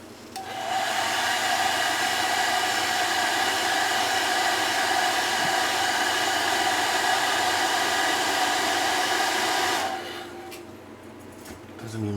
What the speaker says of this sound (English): I got a hair dryer here.